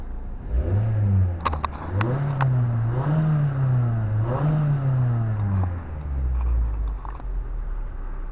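A Mazda 5 car engine revs up and down several times in steady surges, loud and close, then settles back toward idle.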